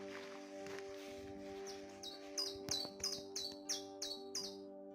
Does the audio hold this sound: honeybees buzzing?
no